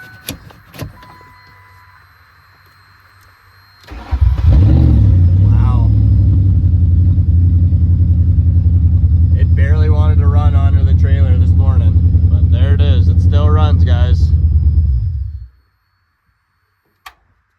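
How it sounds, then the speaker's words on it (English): A 2004 Lincoln LS demolition derby car, started with a starter button, cranks and fires after a few seconds, then runs at a loud steady rumbling idle for about ten seconds before shutting off; a voice talks over the running engine. "Let's see if the car fires up."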